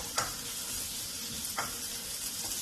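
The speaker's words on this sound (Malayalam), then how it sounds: "ഈ ഇഞ്ചിയുടെ വെളുത്ത നിറമൊക്കെ മാറിയിട്ട് ഒരു ചെറിയ ചുവപ്പാകുന്നവരെ ലോ ഫ്ലെയിമിലിട്ടിട്ട് വഴറ്റണം" Chopped ginger sautéed on a low flame in a pan for Kerala-style chicken curry gives a steady, close hiss of sizzling, broken by a few soft scrapes of stirring.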